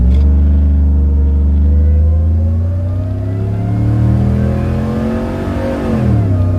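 A supercharged Chevrolet Suburban launches hard off the line, its engine revving loud and close with a deep rumble and rising drone that dips slightly before climbing again, no voices.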